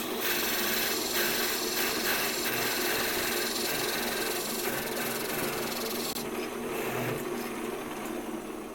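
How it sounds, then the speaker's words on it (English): Woodturning on a lathe, a tool shaving a thin pass of about a sixteenth of an inch off the spinning wood: a steady, loud, continuous rasping hiss that runs unbroken throughout. "Just shaving off maybe a 1/16 of an inch."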